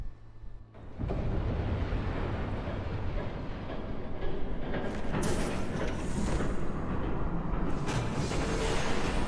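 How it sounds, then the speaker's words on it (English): A train rushes in within the Telltale Batman video game, its rumble swelling abruptly after a second and holding as a loud, continuous roar with rising bursts as it passes close by. "There's a train coming."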